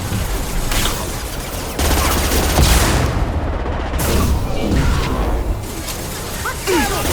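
Firefight in Mass Effect 2, dense crackling bursts of weapon fire and impacts layered into a loud continuous battle din, with brief voices calling out.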